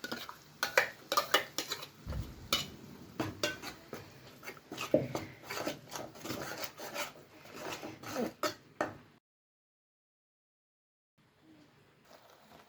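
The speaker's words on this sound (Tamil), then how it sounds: "சேர்த்து நல்லா எண்ணெயிலே வதக்கிக்கலாம்" Roasted ground masala paste being sautéed in oil for a fish curry, busy scraping and clattering of a spoon against the pan over a low sizzle, then stopping into silence near the end.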